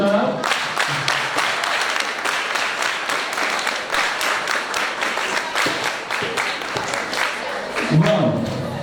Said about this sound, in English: For the speakers, a sound clap, another sound clap,